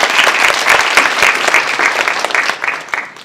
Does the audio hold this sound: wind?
no